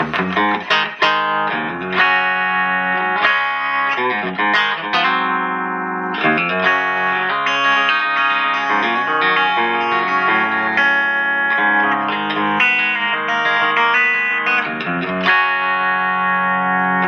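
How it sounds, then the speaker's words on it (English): An electric guitar played through an H&K StompMan amp with the guitar volume turned up, giving loud, bright, distorted chords and riffs with sustained ringing notes and no talking. "volume up on the guitar gives us this"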